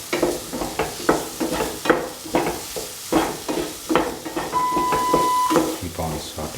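Tomatoes, taro and turmeric powder being sautéed and crushed in a pan, with rhythmic scraping and stirring strokes over a soft sizzle, close and fairly loud, with a tonal background layer underneath.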